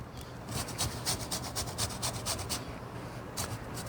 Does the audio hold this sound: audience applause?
no